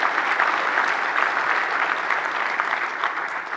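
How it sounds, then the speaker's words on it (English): A conference crowd at a Linux Foundation keynote gives a full, steady round of applause, a dense continuous wash of clapping with no speech over it. "Let's give them a round of applause."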